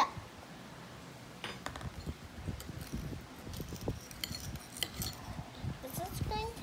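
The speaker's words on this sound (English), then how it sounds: "And I'm going to mix it all up." Red food coloring being mixed into a sugar mixture, giving light scraping and clinking of a utensil against a container, soft and irregular, close by, with no talking.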